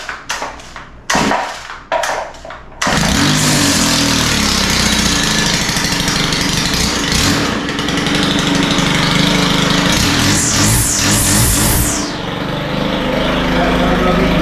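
A Stihl FS111R string trimmer, freshly repaired at the clutch, gets a few short pull-start attempts, then catches and runs loud and steady close by, its engine note rising and falling before settling.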